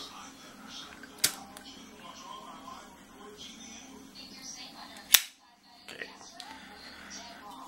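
A Zippo lighter, cold from freezing, is flicked open and lit: two sharp metallic clicks several seconds apart, the second louder, over quiet rustling, with a person talking in between.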